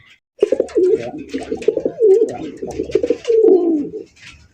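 A deshi Bombay yellow pigeon coos in a run of repeated, rolling calls, close and loud, with brief pauses between phrases and a faint squeak near the end.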